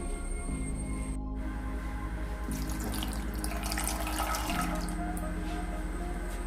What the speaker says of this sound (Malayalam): ഇതിലേക്ക് 1 ഗ്ലാസ് വെള്ളം ഒഴിച്ച്